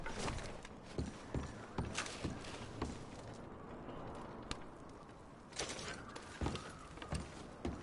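Horses' hooves clip-clopping in the video game Red Dead Redemption, a steady irregular walking rhythm of sharp knocks over a soft outdoor bed, moderately close with no talk.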